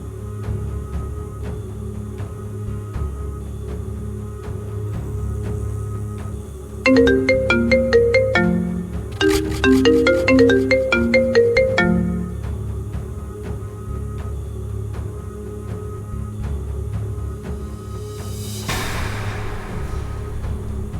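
A phone ringtone plays a short melodic tune in two bursts over a steady background hum, fairly loud and close, with no one speaking.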